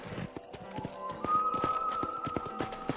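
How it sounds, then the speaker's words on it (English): Horse hooves clip-clop in a rhythmic gallop in the video game Red Dead Redemption, close and moderately loud, with a brief whinny partway through. "Okay, let's see if you can still ride a horse."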